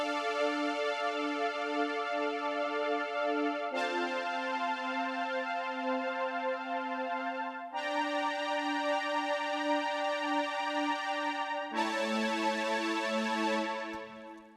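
A lush Top Gun synth pad from the Synapse Audio Legend HZ plays four long sustained chords, each shifting to a new harmony every few seconds. The tone is smooth and rich, with the final chord fading out.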